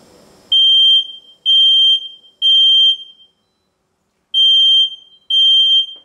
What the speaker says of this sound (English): Now I'm going to hit the smoke detector, alarm sound